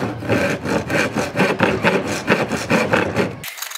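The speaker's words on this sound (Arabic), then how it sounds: "بدينا نستخدم المنشار عشان نقص العمود والمثلثات" A hand saw cuts wood for making stilts in rhythmic back-and-forth strokes, about a dozen loud rasping pulls close to the mic, then stopping abruptly near the end.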